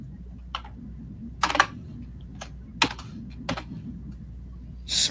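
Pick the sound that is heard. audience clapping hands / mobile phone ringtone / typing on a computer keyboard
typing on a computer keyboard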